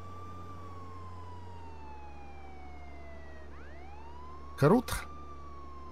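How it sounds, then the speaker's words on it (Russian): A police car siren in the video game Contraband Police wails steadily and slowly glides down in pitch over a low engine hum, then sweeps back up. Someone briefly speaks near the end. "С сиренами ездить, кстати, прикольно."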